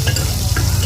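Onions frying in a pan, a loud, close, continuous sizzle with a soft stirring texture over one brief moment and no speech.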